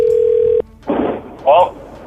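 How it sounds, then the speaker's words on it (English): A steady telephone tone sounds while a call is being placed, holding alone for about half a second before cutting off, followed by brief bursts of nearby talking. "I've tried to call Austin a lot."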